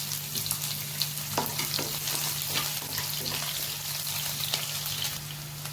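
Onion fries in a pan for a pumpkin curry, a continuous close sizzle with faint crackles and soft stirring scrapes running steadily throughout, with no talking.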